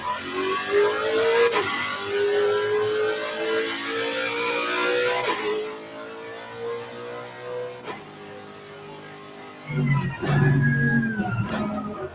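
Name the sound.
race car engine revving in Assetto Corsa Competizione video game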